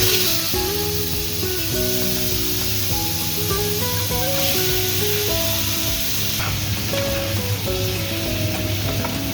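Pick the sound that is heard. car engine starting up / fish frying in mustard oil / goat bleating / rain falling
fish frying in mustard oil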